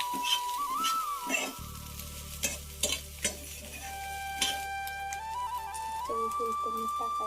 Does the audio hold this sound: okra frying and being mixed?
yes